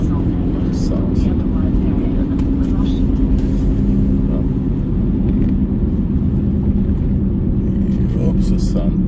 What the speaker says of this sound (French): Je suis dans une file de véhicules qui vont dans le sens.